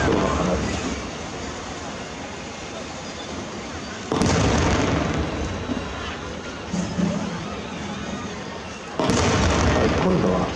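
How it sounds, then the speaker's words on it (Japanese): Ring-design fireworks burst over a Nagashima opening-anniversary display, two heavy booms arriving several seconds apart with rumbling crackle in between, under a crowd murmur and voices. "リングのデザインの色がパーフェクトの花火"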